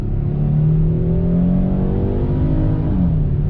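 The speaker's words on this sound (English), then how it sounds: "let's do another acceleration test in sport mode on throttle." A 2020 Hyundai Palisade SE in sport mode accelerates hard, its engine a steady loud drone that climbs in pitch and then drops at a smooth gearshift, heard from inside the cabin with no talking.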